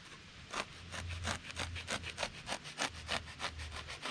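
A blade cuts an incision into a foam pool noodle with quick rhythmic rasping strokes, about a dozen short scrapes in steady succession, close and fairly quiet, with no talking.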